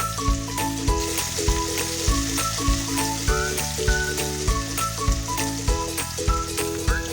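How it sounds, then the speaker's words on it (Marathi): Onion and garlic sauté in a pan for a Maharashtrian val bean dish, a steady soft sizzle running under loud rhythmic background music that largely masks it. "आता लसूण दाल झाला की आपण त्याच्यात कांदा घालूया आणि कांदा पण लाल होईपर्यंत चांगला परतून घेऊया"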